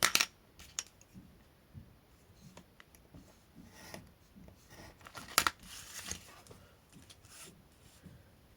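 Scissors cutting paper for scrapbooking: quiet, close snips and crisp paper rustles scattered unevenly, with a few sharper clicks and handling noises between cuts.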